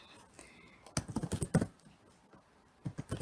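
A URL is tapped out on a computer keyboard in a quick run of soft, close clicks, then a pause and a few final keystrokes, with no voice over them.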